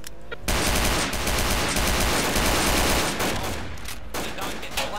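Sustained, rapid gunfire from a shootout in the video game Garry's Mod, a loud, close volley of overlapping automatic shots that runs nearly unbroken for several seconds after a brief pause at the start.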